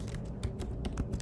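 Laptop keys are tapped briefly in a fast, even run of soft clicks, heard near against a steady background hum.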